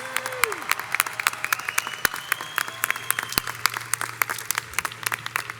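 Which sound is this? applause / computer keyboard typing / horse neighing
applause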